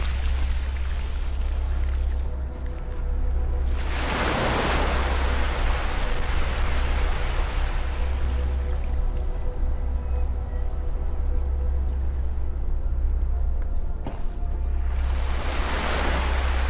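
Gentle beach waves wash steadily onto the shore in a continuous soft roar, with two fuller surges swelling and breaking, and no voices.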